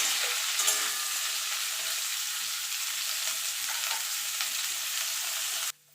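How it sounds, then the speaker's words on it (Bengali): Cauliflower pieces dusted with turmeric fry in hot oil in a pan, a continuous bright sizzle with faint stirring clicks that holds steady for several seconds and then stops abruptly. "ফুলকপিটা আমি লাল লাল করে ভেজে তুলে নেবো"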